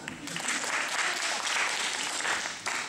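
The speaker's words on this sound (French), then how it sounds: "On applaudit l'appareil plasma." A game show audience claps in a steady, dense burst of applause that lasts about three seconds.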